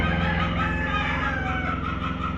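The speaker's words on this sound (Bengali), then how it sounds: "উনি বিশাল এক টাইগার মুরগির খামার করছে" Tiger chickens on a large chicken farm, dense overlapping clucking and crowing from many birds at once, loud and continuous with no talking.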